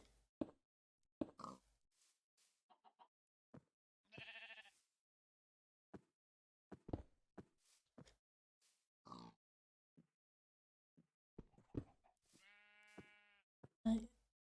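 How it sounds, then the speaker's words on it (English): Minecraft sheep bleat in short, distinct calls, with a few grunting animal noises and scattered game sounds among sparse clicks, heard near and clear in a quiet single-player world. "Minecraft sheep, what can you say?"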